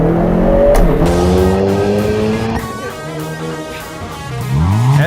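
A Hyundai Kona N in N mode is driven hard, its engine revving sharply and dropping between shifts. Tires squeal briefly and the exhaust roars near and loud before a final rising rev.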